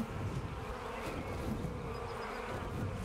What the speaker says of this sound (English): I can hear bees again